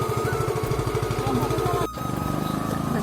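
Motorcycle engine idling close by with a steady rapid putter, briefly cut, then continuing as it pulls away.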